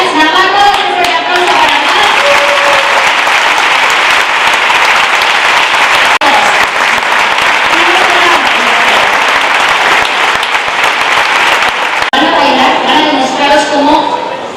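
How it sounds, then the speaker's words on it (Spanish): Sustained, loud audience applause fills a carnival party where wheelchair ballroom dancers perform, steady clapping throughout with voices and announcer speech rising through it near the start and end. "Con un fuerte aplauso a Blas Navarro."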